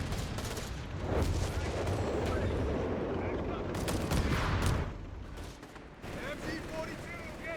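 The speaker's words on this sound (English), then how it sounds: "Got an ace MG42 dealing with the paratroops, of course, at base level." MG42 machine gun bursts rattle in Company of Heroes 3, rapid loud gunfire with explosive cracks and artillery-like booms in a busy battle mix, pausing briefly before more shots.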